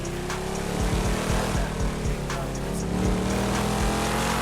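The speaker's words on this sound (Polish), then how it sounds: "silnik głośno ryczy" A loud racing-car engine in a video game roars steadily with revving bursts and low rumbling, playing continuously.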